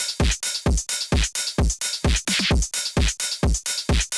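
Steady four-on-the-floor house-style electronic drum beat for phonk, with punchy kicks, crisp hi-hats and a snare, looping evenly with a brief fill in the middle.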